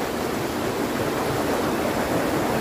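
A cold, clear waterfall and stream at Transfaragasan rush with a dense, constant roar of flowing water that stays loud and even throughout, with no voices.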